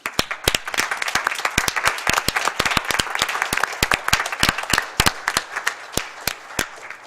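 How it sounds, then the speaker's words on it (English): Board of Education members at a business meeting give a commissioner a round of applause: a dense, steady burst of many hands clapping at close range that thins slightly toward the end. "fellow members will give Commissioner White a big applause"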